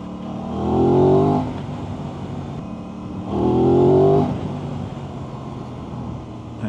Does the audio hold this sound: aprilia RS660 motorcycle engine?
yes